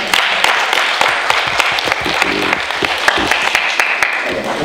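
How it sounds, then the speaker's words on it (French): An audience applauds at a 2017 commemoration day honouring the Senegalese tirailleurs, sustained clapping with distinct individual claps standing out, loud and close, with some voices mixed in. "Donc, je demande encore d'applaudir pour cette dame-ci."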